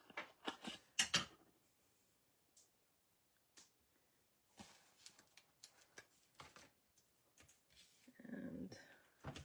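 Scissors snip pieces off paper card in a few short, close, crisp cuts separated by quiet gaps.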